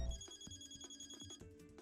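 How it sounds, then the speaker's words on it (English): A cell phone buzzes on a desk in a video game scene, a steady electronic ringing pulse that repeats in a regular rhythm at moderate level with no one speaking. "I heard a cell phone vibrating on one of the desks"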